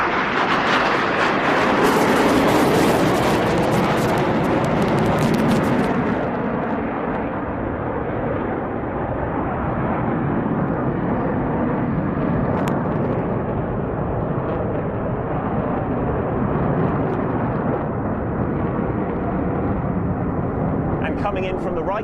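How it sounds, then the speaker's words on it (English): Military jets in line abreast formation loop on full afterburner at an airshow, producing a loud, harsh roar that peaks early and then settles into a sustained, rumbling jet noise. "now they'll form up in a line abreast formation for a loop on full afterburner"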